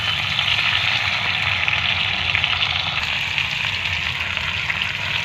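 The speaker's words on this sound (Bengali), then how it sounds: "পটলটা একটু ভাজা ভাজা মতন হয়ে যাবে" Pointed gourd frying in oil in a pan for a potato and rohu fish curry, a steady close sizzle with fine crackle that runs evenly throughout, no voices.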